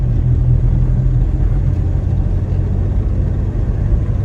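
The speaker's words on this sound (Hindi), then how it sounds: "अभी क्लच दबा के पॉज देके थर्ड गियर पे गाड़ी को शिफ्ट कर दिया मैंने।" A car shifted into third gear during a driving lesson, with a steady loud engine rumble and low drone throughout, close by and with no talk.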